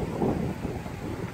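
Stormy wind gusts buffet the microphone on the Lake Constance shore at Markelfinger Winkel, Untersee, a constant low rumbling roar with water sounds mixed in and no talking.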